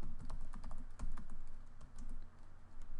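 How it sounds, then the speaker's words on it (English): Steady, rapid tapping on a computer keyboard while entering a command in drafting software, close-up key clicks running continuously over a low background hum. "So I close that and I type Content Explorer."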